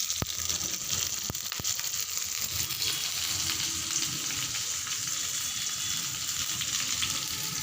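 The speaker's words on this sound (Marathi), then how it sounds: "चांगली तळून घ्या मिरची" Green chilies frying in oil in a home kitchen, a steady close sizzle with a few sharp pops and faint stirring scrapes, with no voices over it.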